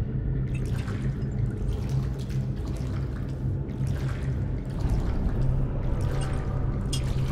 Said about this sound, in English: Sounds like we're going through water